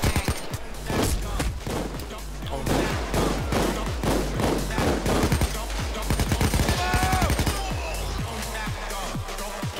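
Rapid bursts of gunfire from the heist game PayDay 2, dense volleys and single shots cracking loudly and almost continuously, with faint game voices now and then.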